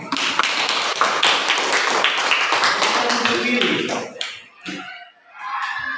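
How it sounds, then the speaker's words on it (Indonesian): Schoolchildren in class clapping hands together, a dense burst of many quick claps and taps for about four seconds, fairly close, fading into scattered voices and a few last slaps. "Tepuk tangan dulu."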